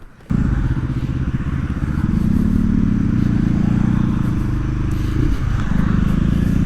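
A 250 cc motorcycle, a Yamaha MT-25 or KTM Duke 250, accelerating hard with a loud, rough engine drone that briefly dips at a gear change into second near the end, then pulls on, close to the microphone.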